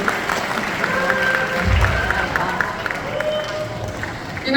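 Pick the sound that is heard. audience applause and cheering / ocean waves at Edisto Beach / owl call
audience applause and cheering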